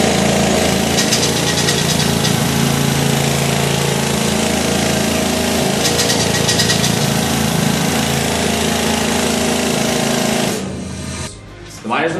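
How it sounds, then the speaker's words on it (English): A pneumatic jackleg rock drill hammers steadily and very loudly underground in a mine for about ten seconds, a dense continuous roar and clatter, then cuts out abruptly near the end. "I'm gonna demonstrate the jackleg drill for you guys."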